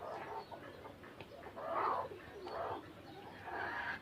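Domestic pigeons from a flock of a dozen or so pairs give soft, throaty coos in repeated swells, close by and fairly quiet, with no talking.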